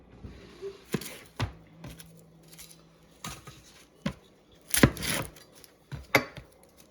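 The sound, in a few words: knife chopping onions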